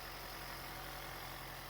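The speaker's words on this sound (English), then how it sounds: "So there's that engine running," An Audi A1 car engine idling at a steady, even hum with no revving or variation, close and continuous, with no voices over it.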